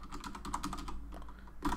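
Rapid, quiet keystrokes tap on a computer keyboard as code is typed, an irregular, close clatter of distinct clicks with a slightly louder burst at the end.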